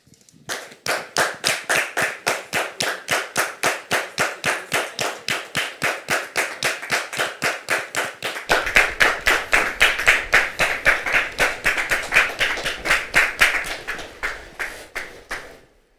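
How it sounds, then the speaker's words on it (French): Steady rhythmic clapping from a church congregation welcoming a pastor's daughter and her husband, many hands beating in unison for about fifteen seconds, swelling slightly louder midway before fading out. "on va recevoir sa fille Ruth et son époux sous vos applaudissements"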